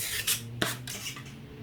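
A trowel spreads plaster compound over a plasterboard joint, giving faint scraping and rubbing strokes, a few short sharper swipes spaced apart against quiet room tone, with no talking.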